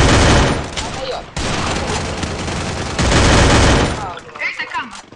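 Rapid automatic gunfire from a video game shooter, dense sustained bursts filling most of the span, cutting off briefly then resuming loud and close before trailing into scattered fainter shots and effects.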